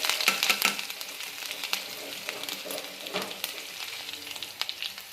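Chopped ginger hits hot oil already popping with mustard seeds and cumin, giving a steady close frying sizzle with crackling spatters, strongest at the start and then settling into an even hiss.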